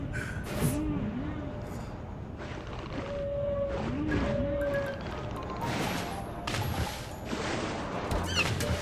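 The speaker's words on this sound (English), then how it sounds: "Dolphin pain noises." Synthetic dolphin distress squeals from the ocean video game Tasty Blue, wavering cries repeating several times amid crashing impacts, splashes and busy game effects.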